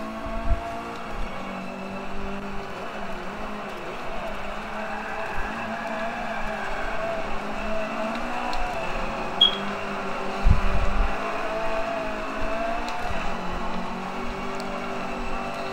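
Rally car in Forza Motorsport 5, a high-horsepower machine weighing about 2,000 pounds, its engine droning steadily and revving in waves throughout, with a brief louder surge midway.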